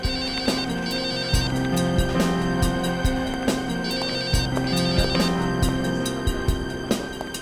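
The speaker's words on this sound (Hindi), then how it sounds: "आपका फोन बज रहा है।" A mobile phone rings with a repeating electronic ringtone melody, rhythmic and steady, playing on without any talk.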